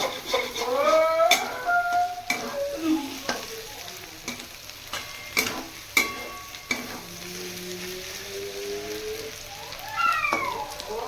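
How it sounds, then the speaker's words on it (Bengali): Pasta with beaten eggs being stirred in a pan over a home stove: repeated sharp scrapes and knocks of a utensil against the pan, with a steady sizzle and frying hiss running underneath, loud and close. "ভালো করে এটাকে নাড়িয়ে নেবো"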